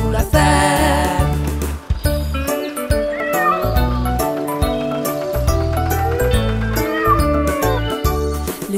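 Playful meows sung in a French children's farm song about tractor wheels, a voice imitating a cat over bouncy, steady instrumental backing, several short meow-like phrases in quick succession.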